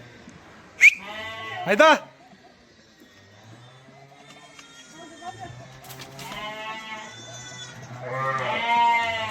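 Arashan breed sheep bleating on a farm in Kyrgyzstan, two loud close bleats early followed by more drawn-out bleats further on, with someone talking between them.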